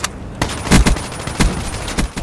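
Rapid bursts of automatic gunfire ring out in a multiplayer shooter game, loud, close and repeated in quick succession.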